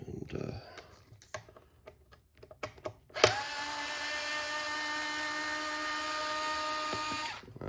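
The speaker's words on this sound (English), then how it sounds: "I'm gonna change over to my little Dremel driver" Small Dremel electric screwdriver driving a long screw into an Arrma Infraction RC car, a few clicks and handling taps followed by a steady motor whir for about four seconds that then stops.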